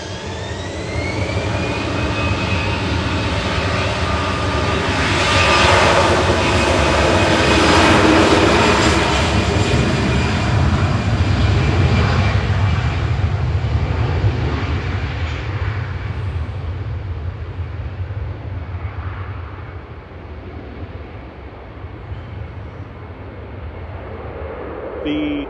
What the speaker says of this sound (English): Departing to Milan, flight